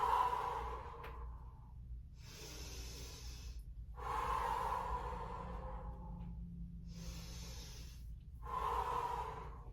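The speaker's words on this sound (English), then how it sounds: "Keep breathing." Slow, deep breaths during a yoga pose, close and clear: long hissing inhales and exhales alternating in an even rhythm with short silent pauses, no talking.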